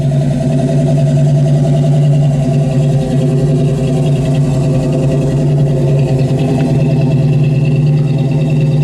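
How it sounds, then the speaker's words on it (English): A 1972 AMC Javelin with a 360 V8 idles steadily through dual exhaust, giving a deep, even, throbbing rumble that stays close and loud with no talking over it. "That 360 flows out to a nice set of dual exhaust. That sounds great."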